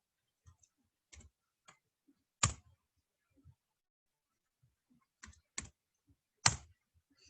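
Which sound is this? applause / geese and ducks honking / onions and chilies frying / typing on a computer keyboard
typing on a computer keyboard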